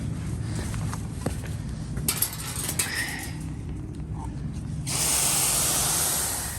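Water spraying over old Emerson K60 shop fan parts being rinsed, a steady near hiss that grows louder and brighter toward the end, with a few clunks and knocks of handling earlier.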